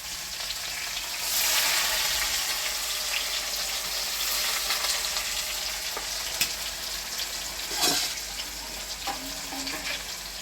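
Onion and garlic fry in oil in a pot over a wood fire on a clay stove, for a goat meat curry: a steady broad sizzle swells and eases, with a few sharp clinks and a brief watery splash near the end.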